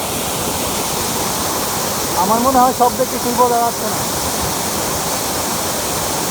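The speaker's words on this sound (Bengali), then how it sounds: "ঝর্ণা আর ঝর্ণা, পানি আর পানি।" Khoiyachora waterfall in Bangladesh roars as a steady, loud rush of falling water, with people talking briefly over it midway.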